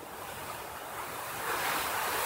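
Ocean surf about three feet high rolls in at high tide on a calm day, a steady broadband wash that swells louder toward the end, with light wind across the microphone and no voices.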